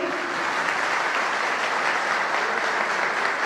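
Continuous, even applause from a large audience at a CHP party congress in Turkey, sustained and fairly loud with no talk over it.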